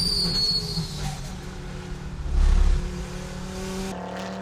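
A KTM GTX race car running at the Barcelona circuit during a 24-hour race, its engine droning steadily past with a brief louder surge midway, heard from outside the car with no talk.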